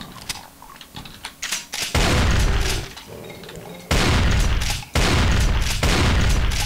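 Weapon fire in Brutal Doom, heard as several loud, sharp bursts of rapid gunshots separated by brief gaps, with clicking and scattered smaller impacts in between.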